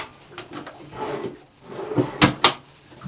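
Storage drawers in the center console of a Cobia 301 CC twin outboard fishing boat sliding open and shut, a run of soft rumbling slides ending in two sharp close knocks.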